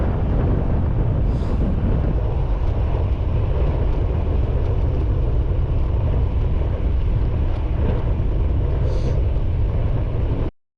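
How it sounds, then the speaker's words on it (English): Strong headwind buffets the microphone on a downhill bicycle tour, a constant loud roaring rush lasting several seconds before cutting off abruptly. "This headwind is kicking my butt. Even though it's downhill, it's beating me up."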